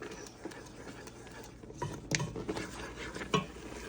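Pepper jelly with hot peppers being stirred in a saucepan, a soft scraping swirl with light clinks of the spoon against the pan, close and fairly quiet with no talking.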